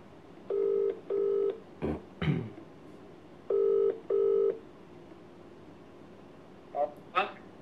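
A telephone ringback tone plays as a call is placed, in two pairs of short steady buzzing rings with a pause between the pairs. Brief rustles and breathy vocal noises come in the gaps and at the end.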